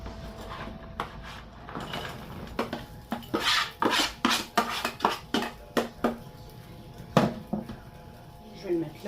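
Food stirred in a pan while salt and pepper are added during home cooking: repeated sharp clinks and scrapes of a utensil against the metal, close and irregular.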